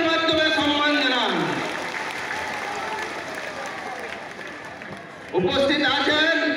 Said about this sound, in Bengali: জোরে হাততালির মাধ্যমে সম্মান জানান